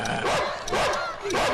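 A dog barks three times in quick succession, loud and close, each bark a short yelping burst with brief gaps between them.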